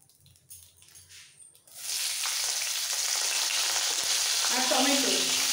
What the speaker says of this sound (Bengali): এবার এই ভাজা পনিরের কড়াইতেই দিয়ে দেবো ক্যাপসিকাম,